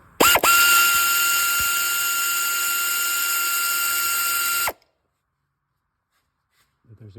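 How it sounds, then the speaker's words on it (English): Pneumatic air ratchet running down a starter bolt during a 2005-10 Chevrolet Cobalt clutch replacement, a loud, steady high whine lasting about four seconds after a brief stutter at the start, then stopping abruptly into near silence. "I'm going to stick my air ratchet up there and run that one down"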